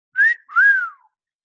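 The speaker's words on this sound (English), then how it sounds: "punctuating his sentence with an impressed whistle" A man's impressed two-part whistle, a short rising note followed by a longer falling one, close and clear with no other sound.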